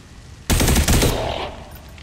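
A single loud gunshot blast in XCOM 2, sudden and close, rattling briefly before fading out over about a second.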